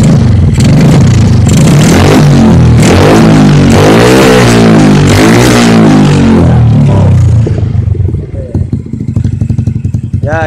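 A Yamaha Mio scooter with a CHA aftermarket exhaust revs loudly and repeatedly up close, the engine climbing and dropping in pitch before settling to a rough idle.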